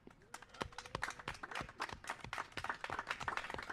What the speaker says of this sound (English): Please, a little round of applause for Tabu.